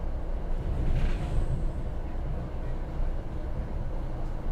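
An Arrow III train runs steadily in Train Sim World 6, a continuous low rumble of motor and rolling noise at even loudness throughout, with no voices.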